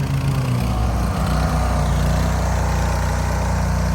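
A Cub Cadet lawn tractor engine runs steadily close by, with a loud, constant low drone and a few small rough changes in the first seconds, and no voices.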